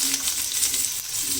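Onions and cumin seeds fry in hot oil, giving a loud, close, bright crackling sizzle with small popping bursts throughout.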